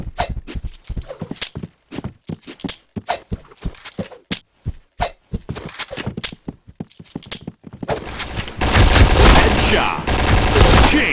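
Rapid bursts of gunfire in the shooter game Point Blank, sharp separated shots in quick irregular rhythm, then a dense continuous roar of fire near the end, loud and close.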